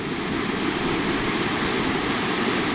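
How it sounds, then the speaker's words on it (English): A river rushing past, a dense, loud, unbroken wash of flowing water close by with no voices over it. "That's the river."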